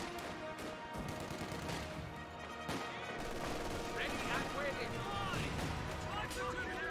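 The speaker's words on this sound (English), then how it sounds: "You now have the Vickers firing away against the garrison as well." A Vickers machine gun fires on a garrison in Company of Heroes 2, steady rattling bursts mixed with other distant battle gunfire and blasts, continuous and dense from start to finish.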